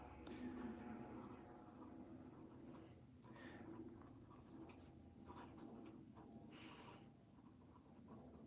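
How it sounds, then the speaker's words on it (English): A Visconti fountain pen with a fine nib scratches softly across paper in quiet, continuous strokes, up close, with faint background noise and a brief squeak. "So we're going to do a little writing sample."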